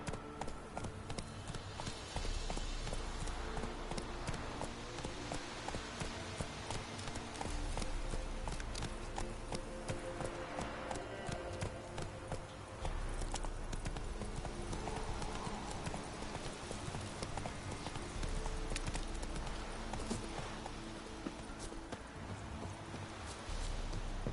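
Steady clip-clop of horse hooves at a trot, continuous and fairly close, layered over a game soundtrack with ambient music, from The Witcher 3: Wild Hunt.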